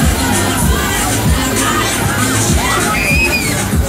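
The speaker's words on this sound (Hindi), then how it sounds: "जो बच्चों का शोर है" Children shout and cheer amid a dense crowd at a city fair in Italy, a continuous loud hubbub with overlapping voices and occasional higher squeals rising above the babble throughout.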